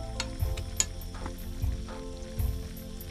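Leftover shashlik and champignon mushroom pieces frying in a pan at a weekend campsite, a steady close sizzle with occasional stirring clinks and scrapes, no talk.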